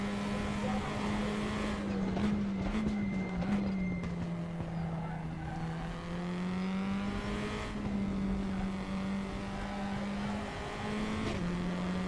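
Tatuus F4 race car engine lapping Imola in the RaceRoom sim, a steady high-pitched drone that holds nearly constant with small dips and rises as gears and throttle shift, loud and continuous with no talk.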